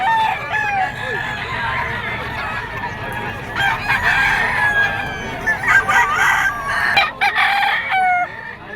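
A gamefowl bull stag crows loudly and close, repeating its call several times over steady background noise at a bird market in Bocaue, Bulacan, with other roosters crowing nearby.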